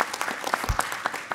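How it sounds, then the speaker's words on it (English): Audience applause at a tech event on the Internet of Things, a brief burst of many hands clapping in a room, fairly even and close. "You should give yourselves, please, a round of applause"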